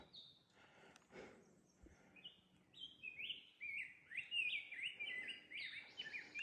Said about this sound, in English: Quite a song that bird has.